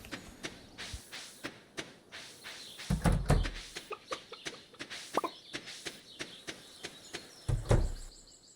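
Soft chicken clucks from the video game Stardew Valley sound in a farm setting, quiet and repeated in short bursts. Light clicks and taps run steadily around them.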